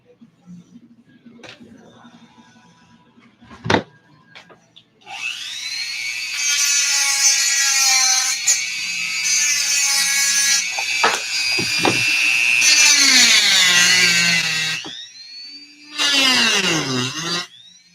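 After some clanks and handling knocks, a loud high-pitched power tool whines steadily for about ten seconds while cutting through a metal bolt, pauses, then bursts again briefly.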